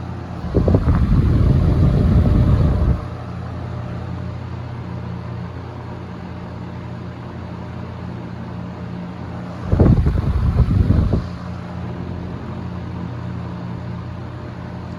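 A loud electric fan blows air in a constant broadband rush, interrupted twice by brief louder gusty bursts as if something is moved close to the blades; nobody speaks.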